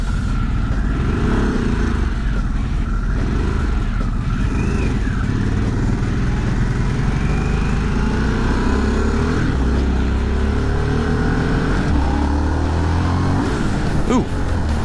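A Harley-Davidson Sportster S motorcycle engine revving and pulling hard while riding, a loud continuous roar with rising and falling pitch over steady wind noise.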